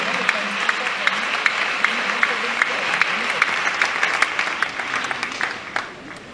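A church congregation applauding in praise, a steady wash of clapping with a regular rhythmic beat running through it, filling the room, with voices mixed in under the applause.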